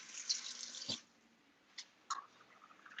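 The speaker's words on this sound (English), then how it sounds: "You want to add just enough water to cook your curry." Water running from a tap into a pot for Jamaican curry chicken, a steady splashing flow for the first second, then short faint spurts and trickles.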